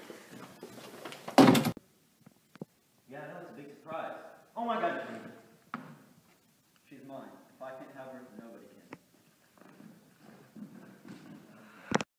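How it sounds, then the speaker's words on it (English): A door shuts with a single loud thud near the start, followed by people talking in a room. "Shut the door behind you."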